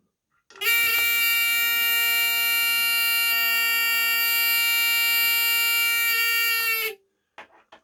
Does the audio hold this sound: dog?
no